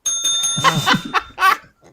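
On a fantasy football podcast a bicycle-style bell dings with a sustained bright ring, while laughter and chatter break over it in short bursts, close and loud.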